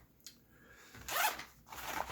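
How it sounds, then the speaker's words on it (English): A zipper on a tactical magazine admin pouch is pulled in a few quick, close rasping strokes, the longest in the middle, in a quiet room. "You have like a zipper on there,"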